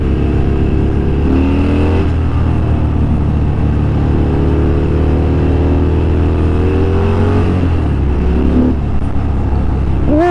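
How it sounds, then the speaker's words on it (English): A 2022 Harley-Davidson Fat Bob 114 motorcycle rumbles loudly under hard throttle, its V-twin engine note rising through a few gear pulls, with steady wind buffeting throughout. "You pin that throttle and it likes to grill."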